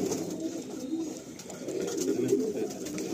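Pigeons cooing inside a loft, soft continuous low throaty coos layered from several birds close by, with faint room noise around them.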